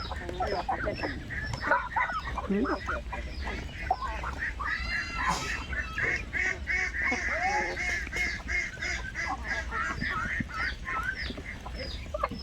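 Geese honking repeatedly in a farmyard, with ducks quacking and other poultry clucking nearby, several loud overlapping calls throughout alongside some background voices.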